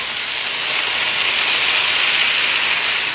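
Water poured onto cauliflower in a hot pan sets off a loud, steady hiss of steam that holds evenly throughout, close by and with no talking.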